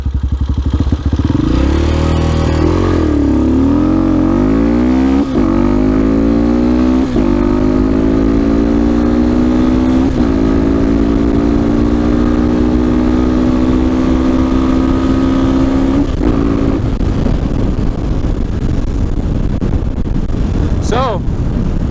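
A car with a TBR7 performance head accelerating hard from 0 to 60 mph: the engine screams upward through the gears toward 8,000 RPM, with brief dips at each shift, loud and close throughout, with talk over it.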